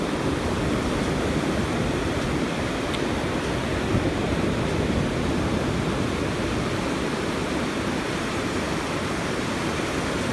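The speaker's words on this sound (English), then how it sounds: "And generally the waves will wash up as you're seeing them washing up" Ocean waves wash up on a sandy beach in a steady, broad rushing roar that continues without a break, with no talking.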